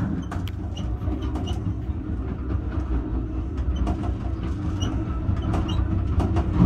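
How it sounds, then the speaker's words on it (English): Norfolk Southern intermodal freight train climbing the east slope near Horseshoe Curve, Pennsylvania: a steady low rumble with faint wheel clicks and squeals, continuous and moderately close, no voices. "Westbound Norfolk Southern Intermodal up the east slope."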